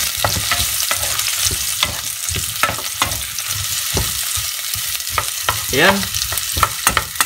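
Sardines frying with chayote and onions in a pan, a steady hissing sizzle broken by repeated scraping stirs of a spatula, with a brief word spoken once.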